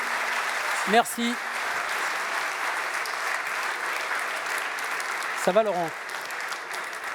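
An audience claps steadily at a security directors' gala round table, the applause continuing throughout while someone briefly speaks over it at two moments.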